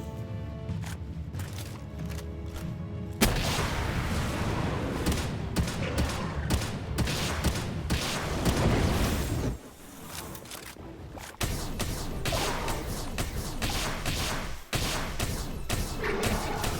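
Heavy gunfire and explosive blasts in the video game Palworld, including rocket launcher shots, a dense loud barrage of thumps and bursts that briefly drops out and then resumes.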